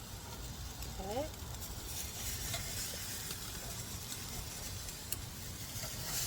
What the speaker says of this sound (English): put that on direct heat now, and this is where I'm really going to get my grill marks, and you'll be able to hear this sizzle.